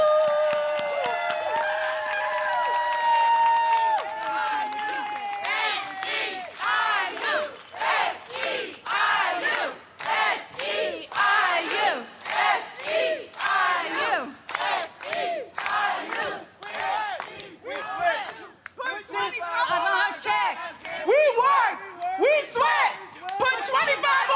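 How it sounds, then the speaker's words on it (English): A union rally crowd cheers and applauds loudly, with rhythmic bursts of clapping and shouting that build and pulse steadily. "Let's give her a warm round of applause and a great cheer."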